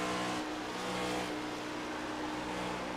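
Racing video game with a Next Gen stock car at Darlington, its engine droning loud and steady at full throttle for the whole stretch with no talk.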